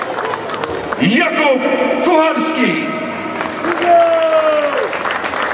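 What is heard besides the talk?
crowd applause at team presentation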